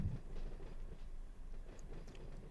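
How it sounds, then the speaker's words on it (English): A freight train rumbles past in the Run8 train simulator game, a low continuous rolling drone with faint rhythmic clatter, steady and moderately loud throughout with no voices. "it's my own train running in the back. Or not my train, it's a freight train passing me"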